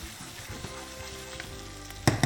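Tofu with curry paste and tomatoes sizzles and fries steadily in a pan, a continuous close crackle with a louder burst of sizzling near the end as more goes in.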